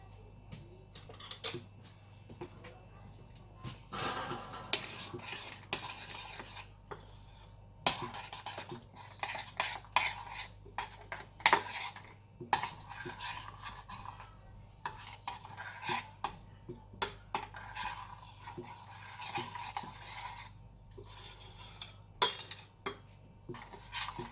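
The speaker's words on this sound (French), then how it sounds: "Maintenant, on fait la sauce tomate. Je vais la mélanger." Tomato sauce for spinach cannelloni being mixed in a pot, with repeated scraping and clinking of a utensil against metal in irregular bursts, close and fairly quiet, no voices.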